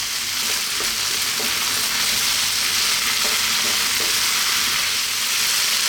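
Beef sizzles loudly and continuously in a pan over medium-high heat, with faint scraping and stirring under a dense, unbroken frying hiss and no voices.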